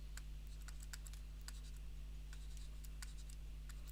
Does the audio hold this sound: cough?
no